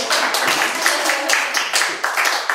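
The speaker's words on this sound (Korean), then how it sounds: "우리 일단 박수 한번 드려줘" Audience at a youth public-interest conference in Guro breaks into loud, dense applause, many hands clapping steadily close by for the whole stretch.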